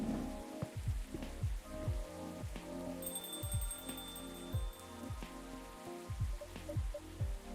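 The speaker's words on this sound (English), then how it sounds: "It's raining again." Steady rain falls in the video game Coffee Talk as a continuous wash of patter, with gentle piano notes and a soft chime layered over it.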